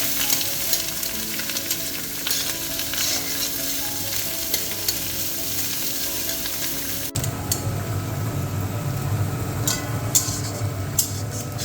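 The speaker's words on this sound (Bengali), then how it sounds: "পেঁয়াজগুলো লাল লাল করে ভেজে নেব।" Chopped onions with four bay leaves fry in oil in a pan for a fish recipe, a steady loud sizzle with stirring scrapes, growing brighter and crackling after a sudden shift partway through.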